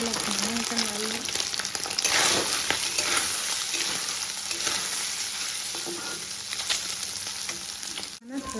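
Soybean chunks frying in hot oil for a soya-potato curry, a steady close sizzle with occasional scrapes and stirring clatter from a spoon in the pan.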